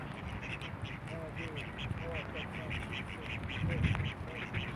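Wild ducks abroad quack in a cluster of short nasal calls through the middle, close by over a steady outdoor hiss with rain and a voice around them.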